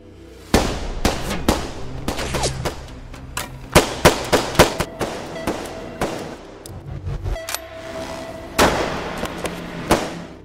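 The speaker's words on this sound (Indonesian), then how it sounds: "Black pun langsung menyuruh anak buahnya menyerang Will hingga terjadilah baku tembak." Gunfire in an action film shootout, with scattered sharp shots cracking at irregular intervals, some in quick bursts and others isolated, loud and close, with no talk.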